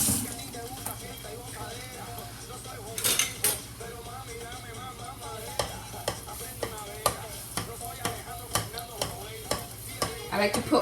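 A spoon stirring and tapping in a frying pan with hot oil, sharp metallic clinks and scrapes repeating irregularly over a low continuous sizzle, with occasional talk nearby.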